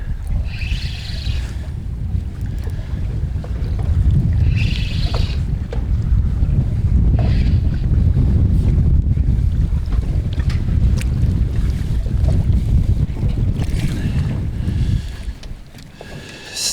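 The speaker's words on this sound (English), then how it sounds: "Not a bad way to spend a windy day, Steve-o." Strong wind roars across a small aluminium fishing boat at sea off the north on a windy day, with a steady heavy rumble and gusts that swell and ease, then drop near the end, with no talk.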